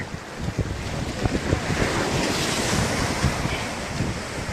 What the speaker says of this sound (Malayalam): കടലിളകിയെന്ന് തോന്നുന്നുണ്ട്